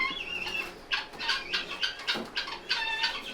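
A pet turkey kept indoors in a city home gives a run of short chirping calls and clucks in quick, uneven bursts, close and fairly clear.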